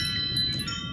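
Wind chimes ringing on a balcony as the wind picks up, a steady layer of sustained high metallic tones over low rumbling wind noise, fairly close and continuous throughout.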